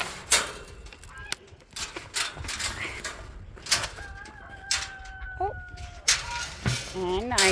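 Guinea fowl on a farm property give a few clear, rising and wavering calls in the middle distance, spaced across scattered outdoor noise and some low rustling.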